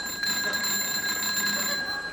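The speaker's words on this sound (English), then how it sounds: "Is that a bell I can hear?" A bright, steady electric bell rings continuously, taken for a doorbell, a sustained metallic trill held at even volume for a couple of seconds with no voices over it.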